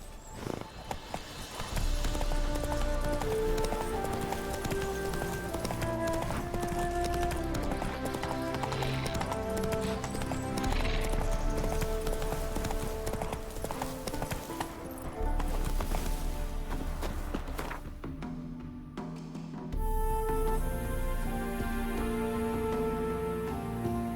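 Roach, Geralt's horse in The Witcher 3, galloping with rapid, steady clip-clopping hooves close by, running continuously under game music and ambient sounds, with a brief lull before the hoofbeats resume.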